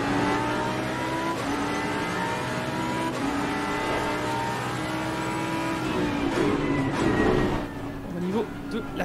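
A Jaguar GT3 race car with a 550-horsepower V8 laps Zolder in the Assetto Corsa Competizione racing game, its engine revving up and shifting through gears, loud and continuous beneath steady spoken commentary.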